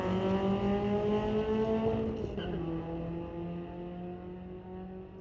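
A 2023 Hyundai Elantra N drag racing a 2004 Mini at a street-legal drag strip, an engine revving hard with a sharp drop at a gear change, then pulling again, loud and close without talk.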